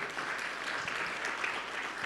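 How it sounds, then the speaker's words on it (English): An audience at an innovation summit expo gives a sustained round of applause for startup teams, with a dense, even crackle of many hands clapping throughout and no speech on top. "please give us a big applause for all the startups once again for GIA Manila"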